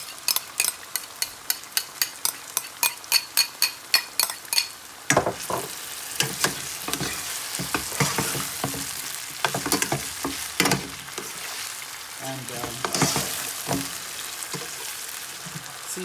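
Saltfish going into sweated seasoning in a hot pan: a run of sharp, evenly spaced taps or stirring knocks, then a loud, continuous sizzle with scraping and clatter as it fries and is stirred close up, no voices.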